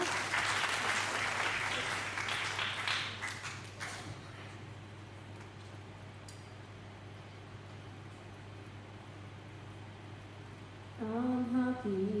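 Audience clapping at a church event marking International Missing Children's Day, a burst of applause that fades after a few seconds into room noise before a voice starts singing.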